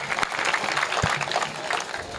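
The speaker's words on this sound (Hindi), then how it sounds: "एक बार तालियां बजाइए" Audience applause at a Hindi poetry recitation, a dense steady patter of many hands clapping throughout, moderately loud and fairly near, with no speech over it.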